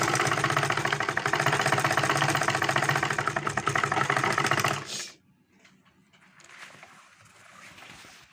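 Sewing machine stitching a multi-pleated V-shaped turban, a loud steady mechanical whir with rapid needle rhythm running for about five seconds before stopping abruptly, leaving faint rustling handling noise afterward.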